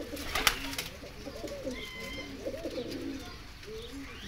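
A flock of pigeons kept in pairs coos softly and repeatedly in a low, rolling rhythm, with a few sharper bird notes and a brief knock near the start.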